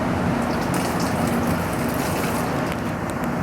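Water and acetone rinsing glassware into a waste container in a fume hood, a continuous loud splashing gush with no pauses.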